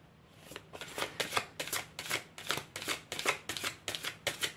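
Tarot cards are shuffled for a reading in a regular series of about ten crisp riffling bursts, close and clear with no talking.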